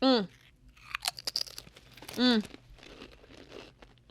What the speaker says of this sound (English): I'm going to have a chip because I do love these chips.